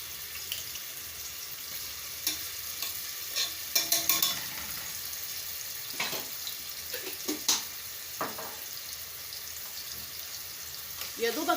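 Crushed garlic sautés in a pan for Egyptian koshari sauce, making a constant low sizzle broken by sharp spoon clinks and scraping stirs, close by and fairly quiet.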